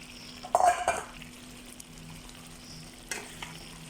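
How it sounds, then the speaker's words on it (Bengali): Chicken pieces dropped into a wok of cooked-down spiced masala, a loud burst of sizzling and clattering stirring near the start, then a quieter steady fry with another scrape of the spatula later. "যে কড়াই মুরগি আছে ওই মুরগিগুলো দিয়ে দিচ্ছি"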